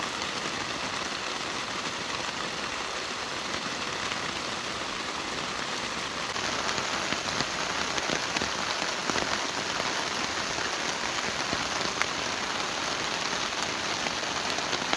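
Heavy rain pours down steadily during a storm in rural southern Laos, a dense continuous hiss of drops on surfaces that grows slightly louder partway through, with no voices.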